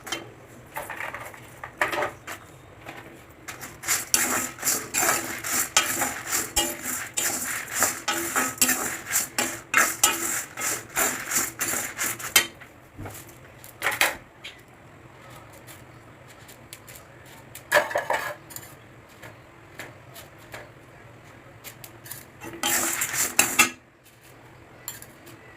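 Chili and lentils roasting in a pan for paruppu podi are stirred with a utensil, producing dense, continuous scraping and rattling that comes in busy bursts and pauses, close and fairly loud, with no speech.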